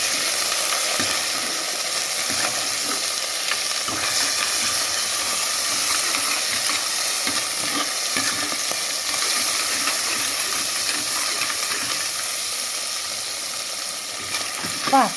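Crab frying in a pan with tempered curry leaves, cinnamon and chilli, giving a steady loud sizzle and hiss with occasional stirring scrapes, continuous and close throughout.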